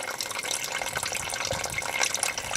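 Water runs steadily and drips into the trunk of a 2003 VW Passat W8 being tested for a leak, a continuous close splashing trickle with no talk.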